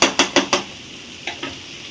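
Chopped onion browning in a hot pan for bendekayi palya, with four quick metal scrapes of stirring over a soft sizzle, then two lighter scrapes after a pause.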